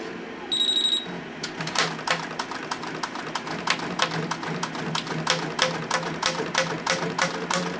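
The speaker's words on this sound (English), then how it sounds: "SWF machine, all I'm going to do is press the start button, and I'm going to keep pressing it all the way through." An SWF embroidery machine stitches a blank patch, starting after a short beep with a fast, steady run of sharp needle taps repeating at a brisk even rhythm, loud and close.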